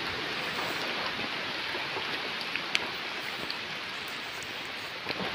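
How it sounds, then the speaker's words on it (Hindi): Steady rain falls on a mountain pilgrimage trail, a dense, even hiss that holds at the same level throughout, with a few faint drop ticks above it and no voices. "मुझे देखिए फिर बारिश धीरे धीरे तेज होते जा रही है।"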